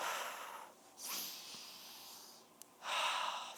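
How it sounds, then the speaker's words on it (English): Three slow, deep breaths in and out, close and soft, close the cool-down of a mini trampoline cardio workout, each inhale and exhale drawn out with quiet gaps between them. "Give me 3 deep breaths in."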